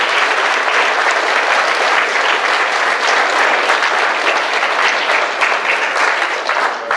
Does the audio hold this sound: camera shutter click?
no